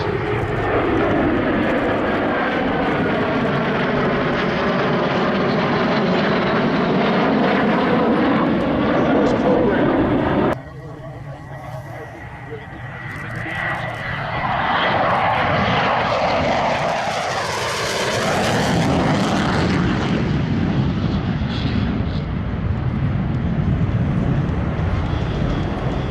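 A jet airplane flies at Oshkosh, its engine roaring loud and close with a sweeping pitch, briefly dropping away before a second powerful roaring pass builds and fades.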